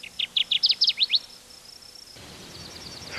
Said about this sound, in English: the male Kirtland's warbler establishes a territory and attracts females by singing